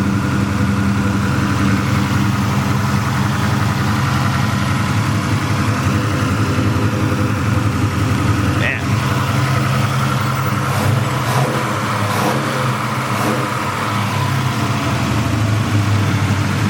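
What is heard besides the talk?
1968 Chevrolet Chevelle SS 383 stroker engine idling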